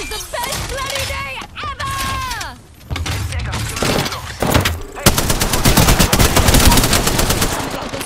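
Gunfire in the video game Apex Legends, including a Kraber, with loud, rapid, continuous bursts of automatic fire and mechanical clatter, close and dense toward the end, with voices and game sounds mixed in.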